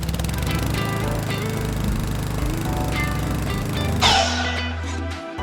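A power saw set to about a four-degree angle makes a slow cut, giving a steady loud motor drone that shifts pitch and drops near the end as the blade finishes the cut, with no talking.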